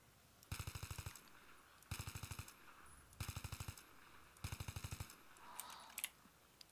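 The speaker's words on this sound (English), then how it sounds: "I would start doing maybe like 5, 6, 7 round bursts, something like this." Rifle fire in Battlefield 3 in four evenly spaced short bursts of about seven rapid shots each, loud and close, with brief silent gaps between and no talking.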